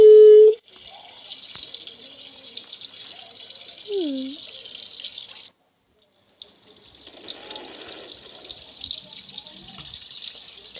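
A water tap runs for hand washing in the Roblox Brookhaven game, a faint steady rush of flowing water that cuts out briefly and resumes, with short game tones near the start.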